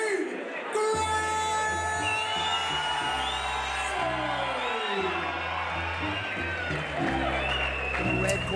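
A crowd at a Muay Thai fight event in Belfast cheers, whoops and applauds loudly as a fighter is introduced, a dense sustained roar under an announcer's amplified voice and music.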